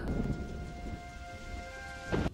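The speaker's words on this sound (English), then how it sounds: "Of course, it just has to rain." Rain and thunder from The Two Towers film form a soft steady rain wash with a low rumble, with a faint sustained musical tone above and a short louder burst near the end.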